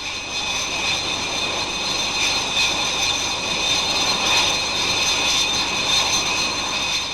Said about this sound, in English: the Buccaneers pick up speed and press on